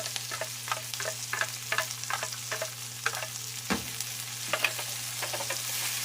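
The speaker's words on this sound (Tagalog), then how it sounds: "So lutuin lang muna natin yung ating kamatis." Tomatoes frying in a pan after garlic, for a pompano fish adobo: a steady close sizzle with scattered sharp ticks and scrapes of stirring throughout, no voices.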